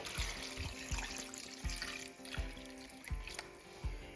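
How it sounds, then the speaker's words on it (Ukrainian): Water pours and trickles into a pot of chopped potatoes at low volume, with soft splashes and a few clinks. "а тепер вливаю сюди воду."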